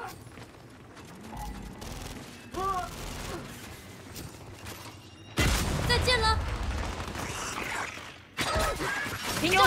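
Frag grenade explosions and gunfire in Gears 5 on a harbor map during a horde-style endurance match: scattered game noise builds to two loud, sudden blasts of crackling gunfire and detonations in the latter half.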